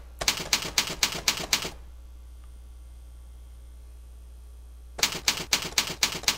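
Repeated clacks of a space bar pressed on a computer keyboard, fired in a quick even burst of about six strokes, then a pause with faint hum, then another fast run of six presses close to the mic.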